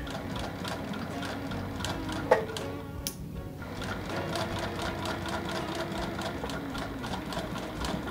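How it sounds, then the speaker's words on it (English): A sewing machine stitches down quilt binding in a steady, rapid mechanical hum that runs close and fairly loud, with a brief dip near the middle before it carries on evenly. "rotate it with my needle up, and we're going to keep on sewing"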